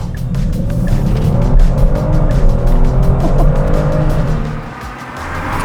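A 2022 Kia Stinger GT engine roars loud and close under hard acceleration, with a rising pitch and a brief dip near the end.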